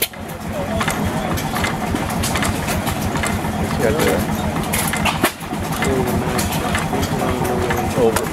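A vintage 6 horsepower gas engine with overhead valves runs steadily at a smooth idle, a continuous rhythmic chugging heard close up with people talking over it and a bird cooing faintly.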